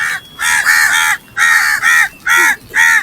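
Crows cawing in the rain: about six loud, harsh caws in an uneven series, each lasting roughly a quarter to half a second, close by, over soft background hiss, with no talking.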